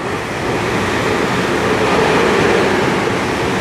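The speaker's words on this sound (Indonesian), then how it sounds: "Ada kereta lewat sebentar saudaraku supaya suaranya nggak ribut." A train passes by in Taipei, Taiwan, a steady loud rumbling wash of wheels and rolling noise that swells slightly toward the middle and holds throughout.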